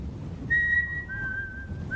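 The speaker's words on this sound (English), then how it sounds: "Echoing around the mountain and getting closer was a cheerful whistling" A cheerful whistled tune carries over a low rumbling background, a few sustained, sliding notes that sound fairly close and clear, echoing around a mountain.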